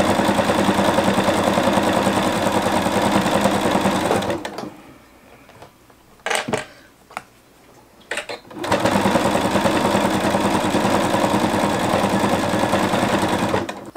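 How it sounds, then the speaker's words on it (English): A sewing machine stitches a quilted tote bag, its loud, rapid, steady whir running close for several seconds, pausing briefly with a few short bursts, then resuming just as loud and continuous. "let me sew through some of this and then I'll show you up close"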